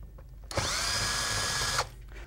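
Power drill driving out Allen screws from a pressure chamber end cap, one loud high whine lasting about a second and a quarter, starting and stopping abruptly, close up.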